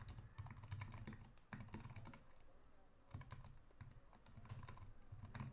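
Typing code on a computer keyboard: steady runs of quiet, close key clicks in rhythmic bursts with brief pauses, no talking.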